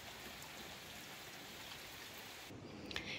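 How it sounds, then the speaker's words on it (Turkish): Steady morning rain hisses outside, a dense even patter of drops on surfaces at moderate distance, continuous throughout with a slight change in tone near the end and no speech. "Sabah erken saatlerden beri yağıyor yağmur."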